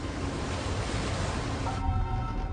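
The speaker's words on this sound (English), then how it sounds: "the shallow ocean makes the choppy waters even more turbulent." Rough, choppy ocean water churning in a shallow strait, producing a steady, dense roar of surf and wash with wind noise on the microphone, loud and continuous throughout.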